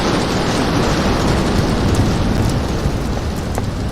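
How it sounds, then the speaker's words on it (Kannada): Heavy rain pours in the Roblox horror game DOORS, a loud, dense and unbroken roar of falling water with a deep rumbling undertone and no voices. "ಮಳೆ."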